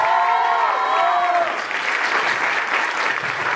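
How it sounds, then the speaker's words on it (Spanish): Loud, close applause from a conference audience fills the room, continuous clapping that carries on after a ringing musical tone fades out early on. "¡Un aplauso, por favor!"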